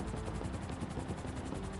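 A helicopter in GTA Online hovers with a continuous rotor whir and fast rhythmic blade chop, fairly faint and steady with no voices.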